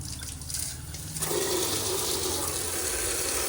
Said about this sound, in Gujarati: હવે ફૂલે ફૂલ પાણી આવે છે.